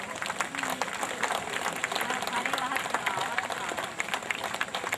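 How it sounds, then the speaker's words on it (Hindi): Crowd clapping steadily at an outdoor political rally in Bahraich, Uttar Pradesh, a dense continuous patter with voices and a loudspeaker voice mixed in throughout. "ताली बजाते रहे भैया आप लोग।"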